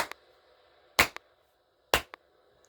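A WWI-era gun fires in the Tomb Raider Definitive Edition video game: sharp, close single shots spaced about a second apart, each followed by a quick smaller click or echo, over a faint low ambient hum.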